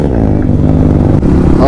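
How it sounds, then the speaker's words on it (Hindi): Motorcycle idling right after a cold start, a loud close steady engine rumble with even low pulsing, unbroken for the whole short stretch. "अभी कोल्ड स्टार्ट कर रहा है"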